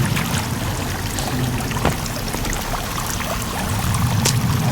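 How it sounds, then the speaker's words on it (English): Loud rushing water echoes inside a cave in the video game Sons of the Forest, a steady broadband roar with scattered small splashes and no speech. "The water's loud."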